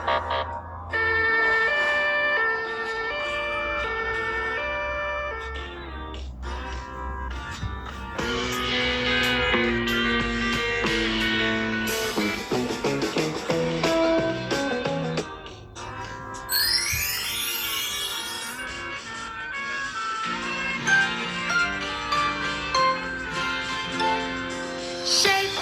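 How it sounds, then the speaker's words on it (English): Police car siren in Hamburg, a long sustained wailing tone that rises and falls through busy tonal street noise, loud and continuous, with a brief high sweep partway through. "Police car. Полицейская машина."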